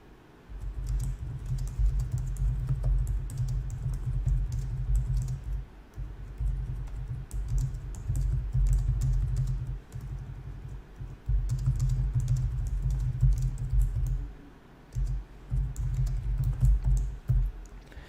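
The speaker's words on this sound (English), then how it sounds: "just essentially type what our store is about, what we sell" Steady typing on a computer keyboard while entering a meta description for an online store, with dense continuous key clicks in bursts separated by brief pauses, close and alone.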